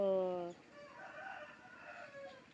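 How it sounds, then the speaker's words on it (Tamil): A fighting rooster crows once, loud and close, then fades into quieter background clucking. "இதுதான் எங்கள் வீட்டு சேவல்."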